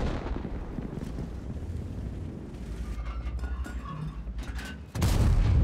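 Tank gun firing in World of Tanks: a heavy, booming blast bursts in loudly near the end after a stretch of rumbling engine and battle ambience.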